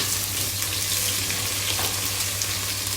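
Green chillies and onions frying in oil for a spring onion egg curry, a constant close hiss of sizzling with faint stirring, no voices.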